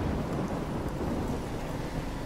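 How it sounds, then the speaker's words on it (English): Thunderstorm in Life Is Strange: a steady, dense roar of heavy rain with rumbling thunder and wind, continuous and loud throughout with no voices. "Boy, this is a storm."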